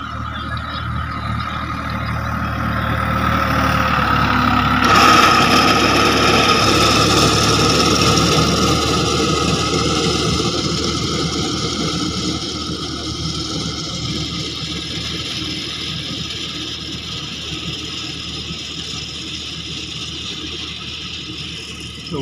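A New Holland tractor drives a reaper cutting a crop in a field, producing a continuous loud mechanical clatter and engine drone that holds steady for the whole stretch, with no voices.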